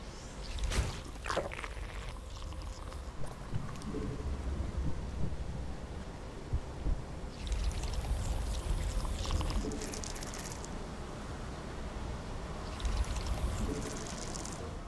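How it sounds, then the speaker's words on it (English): A flash freeze storm in StarCraft 2: Heart of the Swarm, a sustained roaring wind-like rush with rumbling gusts that swell and fade over a low, continuous bed. "Flash freeze storm has arrived."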